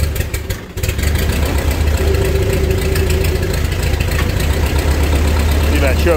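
A restored Ford 8N tractor engine catches and settles into a loud, steady low idle with a rough, knocking rumble close by, after a brief starting burst at the beginning.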